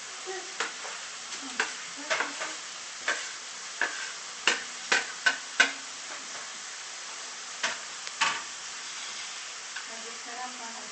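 Potatoes drop into a hot frying pan and set off a steady sizzle, with clicks of stirring and scraping through the frying noise. The sound carries faint, low background talk.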